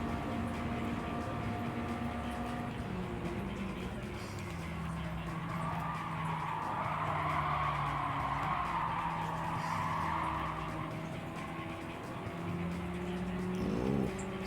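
Tires skid and squeal under a steady race-car engine drone in a Gran Turismo 7 race, a broad smeared screech swelling in the middle and fading out, with engine tones held underneath throughout.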